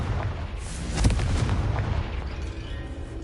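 Booming spell explosions from Bombarda and Confringo in Hogwarts Legacy, a dense rumbling burst peaking near one second, then a sustained roar of debris and low thunder with no talk.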